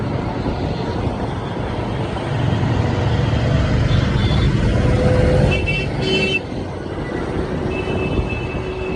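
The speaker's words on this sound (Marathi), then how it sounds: "ट्रॅफिक तुम्ही बघू शकता, जाम ट्रॅफिक आहे" A jammed road in Mumbai carries a loud, continuous rumble of idling and creeping engines, with a brief car horn blast from nearby about midway and scattered softer toots.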